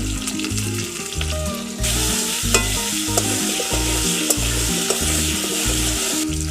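Nigella seeds and chunks of elephant foot yam fry in oil with a loud, close sizzle while a spatula scrapes and stirs in steady repeated strokes, and no one speaks.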